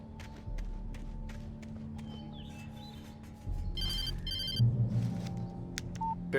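Telephone ringing in the game Alan Wake Remastered, with short electronic ring bursts over low ambient hum and a few footsteps and thuds nearby.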